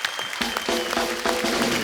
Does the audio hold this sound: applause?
yes